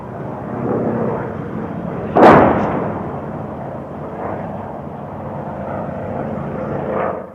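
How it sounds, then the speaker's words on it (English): Aircraft droning steadily overhead during air attacks in the siege of Kontum, with one sharp blast-like burst partway through, then a continuous rumbling engine roar. "While the air attacks continued overhead"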